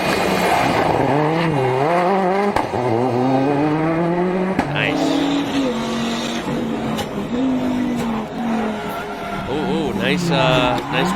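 Peugeot rally car driving hard, engine note rising and falling through gear changes with some tyre scrabble, loud and close, with someone talking over it.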